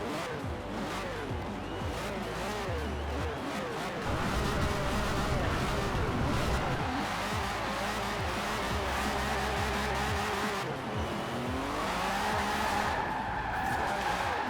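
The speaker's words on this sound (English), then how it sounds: "It's definitely spinning those rear wheels." A V12 rear-wheel-drive British classic car in Forza Horizon 4 spins its rear wheels, with sustained tire squeal and skidding over a rough, old-style engine drone, loud and continuous, while a voice talks over it.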